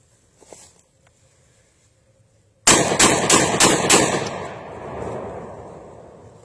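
A Winchester 1300 shotgun firing lighter loads cracks out in a fast burst of about five loud, close shots in quick succession, echoes trailing after a quiet lead-in.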